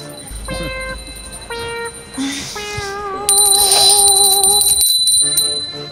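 A bright prayer bell rings repeatedly in short, resonant strikes, with lingering tones overlapping as it is shaken near the listener.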